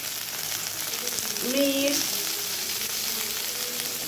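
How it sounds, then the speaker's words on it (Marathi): Chopped vegetables with salt sizzle lightly in a pan, a steady soft crackle with a brief stirring scrape in the middle, while a voice speaks faintly. "थोडंसं हलकंसं फ्राय करूया"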